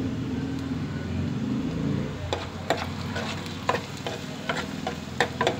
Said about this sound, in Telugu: చూడండి, ఆనియన్స్ వేగిపోతున్నాయండి.